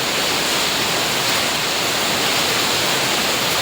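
Heavy rain pours down with floodwater flowing, a dense, constant roar of broadband noise filling the whole clip at close range, no voices.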